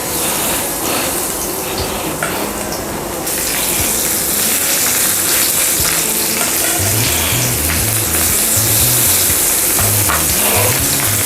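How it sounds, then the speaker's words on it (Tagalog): Pork pieces frying in hot oil in a pan, a loud, steady, close sizzle with bubbling crackle that holds for the whole stretch, with no talking. "mainit na po ang ating mantika. Siyempre, ilagay na po natin ang ating pork."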